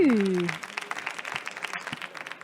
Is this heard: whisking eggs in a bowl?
no